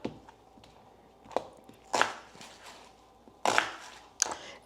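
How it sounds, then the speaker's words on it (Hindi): Food being chopped in a manual hand chopper while cooking keema karela: a handful of separate crunching thumps spaced about a second apart, heard close and alone with no talk. "बस रफली chop and pop them in my hand chopper."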